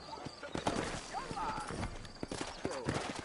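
Horse hooves clip-clopping in the Red Dead Redemption video game, a steady run of near hoofbeats laid over game ambience. Someone speaks throughout and a brief whinny-like tone rises partway through.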